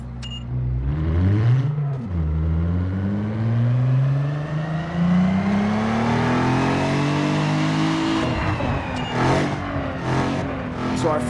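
A car engine in Need for Speed Underground 2 revving hard to high RPM, pitch climbing steadily through a gear, dropping at a shift, then climbing again, loud and close with no voices.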